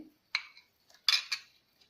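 Spoon clinking against a pot while vegetable Manchow soup is stirred and cornflour slurry is added, with a few sharp, close metallic taps and scrapes separated by silence, faint overall, with no talking.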